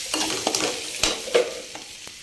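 Soaked flattened rice (poha) being stirred and mixed in a pan, with soft scraping and a few sharper spoon strokes against the metal over a faint background sizzle.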